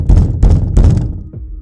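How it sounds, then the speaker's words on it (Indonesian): Loud knocking on a locked room's door from right behind it: three heavy, dull thuds in quick succession, very close, followed by a softer faint tap, with no voices. "satu ketukan keras tepat dari balik pintu, deket banget."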